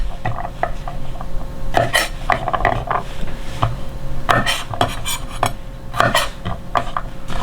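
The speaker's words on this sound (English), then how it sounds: "Then you want to chop off, you want to remove the ends" Kitchen knife taps on a board cutting the ends off garlic cloves, quick irregular clicks and clatters with some dish and utensil clinks, close by and alone.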